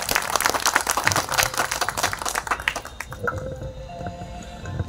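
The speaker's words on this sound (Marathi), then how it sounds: "त्यांच्यासाठी एक जोरदार टाळ्या होऊन जातात." An audience claps loudly and densely for a singer at a live music gathering, the applause fading out after about three seconds into quieter room sounds.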